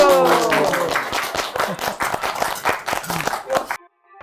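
A group of grandmothers cooking with a large iron cauldron claps in a quick, steady rhythm, with lively voices cheering over the claps until everything cuts to silence at the end.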